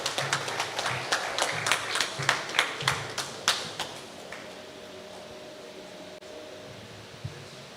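Audience applause at an awards night, a steady run of rhythmic group clapping lasting about four seconds before fading into quiet room hum with a last faint clap.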